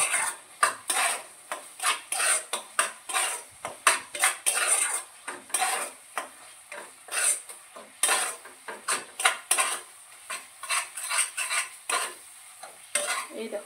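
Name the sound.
masala being sautéed and stirred in a pan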